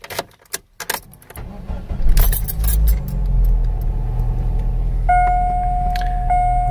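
Keys jingle and clack at the ignition of a 2008 Saturn Astra, then the engine cranks briefly and catches, settling into a steady idle close by with a faint whine above it.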